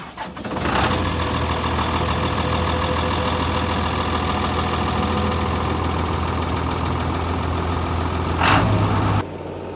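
An old tractor engine runs at a steady idle, a loud, close, continuous low chugging rumble with a brief sharp burst near the start and another near the end before it cuts off.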